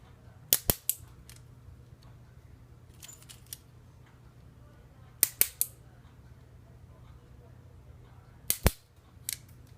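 Plastic cutter snipping a Tamiya Mini 4WD pinion gear part from its sprue, a few sharp close snaps in quick pairs and clusters separated by quiet pauses.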